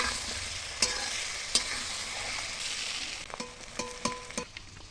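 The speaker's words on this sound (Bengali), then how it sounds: "এবার কড়াইতে তেল দিই, ভালো করে তাকলে ওই মাছগুলো দিয়ে ভালো করে ভাজে তুলে নেব" Fish fries in oil in a wok, a close sizzling hiss with sharp spatters and a run of clicking knocks from stirring toward the end, and no one speaking.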